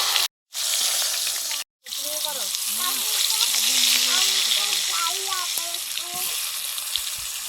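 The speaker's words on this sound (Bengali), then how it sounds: "আলুগুলো ভেজে নিচ্ছি" Potatoes fry in mustard oil in a home kitchen, a loud steady sizzle after two brief cuts, with a voice-like tonal sound running over the frying.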